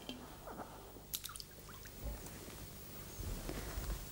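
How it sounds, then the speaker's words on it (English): Water sloshes and drips softly in a bowl as a bare foot is lifted out and another lowered in during a foot bath before a massage, with faint splashes and small bumps. "remove the foot out of the water and place the other foot into the bowl"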